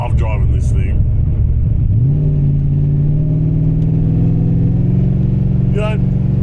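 Street-machine HSV Caprice with a 355 stroker V8 and big 20-inch wheels on low bags, its engine revving loudly and steadily nearby, a deep rumble that climbs in pitch and holds high, with brief voices underneath.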